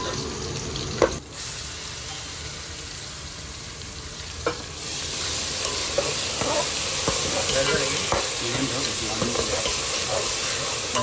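Onion and ground masala paste sizzle and fry in hot oil for a Marathi-style crab curry, a steady loud crackling hiss with occasional spoon scrapes and stirring knocks, growing denser halfway through.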